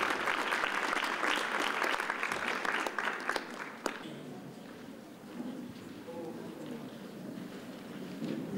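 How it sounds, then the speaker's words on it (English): A conference audience claps steadily, the dense applause fading somewhat toward the end. A speaker talks over the tail of it. "We can do a round of applause for Ntantando."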